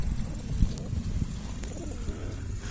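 Low, soft coos from a Turkish tumbler pigeon murmur through the clip, with a few faint chirps and light background noise; no one speaks.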